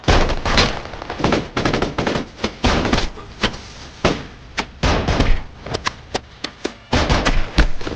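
Gunfire crackles through a movie shootout with drug dealers, a rapid irregular string of sharp, loud shots and bursts, some clustered and some isolated, echoing close by.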